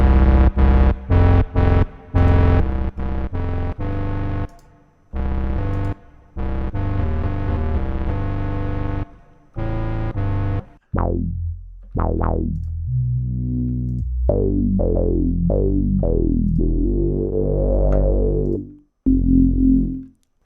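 Heavy synth bass presets from a Cherry Audio software synthesizer, loud sustained bass notes with a growling distorted edge, then short plucky decaying stabs and a final held tone, all without talk.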